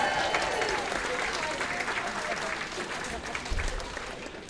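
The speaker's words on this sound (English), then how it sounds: "So I would say that deserves a round of applause." Wedding guests clap steadily through the whole stretch, a dense even patter of many hands with faint voices mixed underneath.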